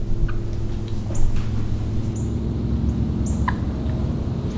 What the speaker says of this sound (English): So I can tell the turkeys are spooked